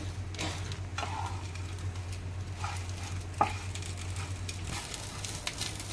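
Garam masala and spices sizzle in a pan as they are stirred and sautéed for a spicy chicken rassa. A steady close hiss is broken by occasional scraping taps of the spoon, over a low constant hum.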